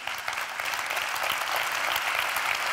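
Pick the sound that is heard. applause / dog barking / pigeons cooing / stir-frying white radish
applause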